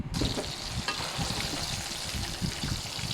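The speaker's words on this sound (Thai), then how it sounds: "ก่อนอื่นเรามาทอดเต้าห ู้ก่อนเลยนะคะ ทอด" Tofu fries in hot oil for a vegetarian Thai dish, a steady close sizzle and crackle with occasional stirring or shifting, moderately loud and without speech.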